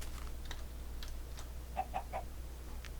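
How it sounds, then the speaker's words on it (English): A Minecraft chicken gives a few short, quiet clucks in quick succession, soft game sounds set against light background clicks, with no talking. "Chicken? Okay, chicken."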